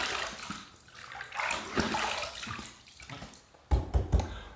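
Tap water runs steadily into a sink while a razor is rinsed during a wet shave with an Omega 10066 boar brush, a soft continuous hiss ending in a few sharper, nearby splashes.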